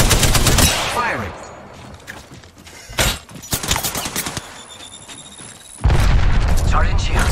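Rapid automatic gunfire and explosive booms from a battle-royale style video game, loud bursts at the start and end with scattered shots between, while players call out over the action.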